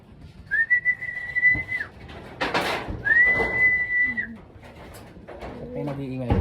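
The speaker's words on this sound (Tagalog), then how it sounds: "Nag-iingay ng mga ibon," Birds in a pigeon loft call out: two long steady whistles stand out, with fluttering and a few short coos and chirps nearby.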